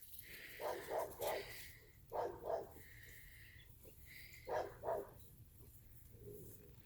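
An excitable dog running around, giving short, high yipping barks in quick pairs, close by and moderately loud, with quiet gaps between the bursts and no talking.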